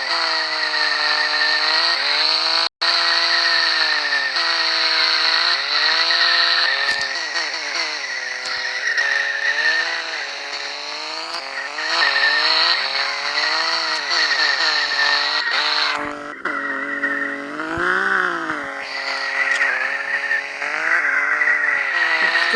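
Engine drone of a car in the Drift Max video game, racing and crashing, sustained and loud with shifting revs and skid-like screeches; a sharp impact break and a dip where the car hits something.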